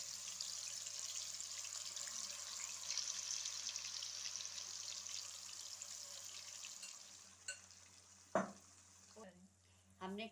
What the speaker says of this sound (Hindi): हमने कीमा डाल दिया सारा। अब हम इसको है ना भूनेंगे।